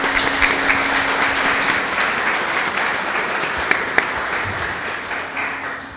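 Audience applause after an engineer's talk on advanced geotechnical investigation testing, a steady wash of many hands clapping at moderate loudness from a seated crowd, with a couple of sharper individual claps standing out.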